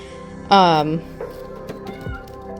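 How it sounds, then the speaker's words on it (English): A single loud, close meow from a small plastic toy cat, followed by a few quieter clicks and small sounds. "Meowing cats."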